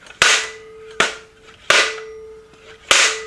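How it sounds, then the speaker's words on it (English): Four sharp, loud claps from a homemade spring-hinged wooden slapstick, snapped at slightly uneven intervals close by, each crack like a cap gun going off, over a faint steady hum and without speech. "there it goes. That's a slapstick."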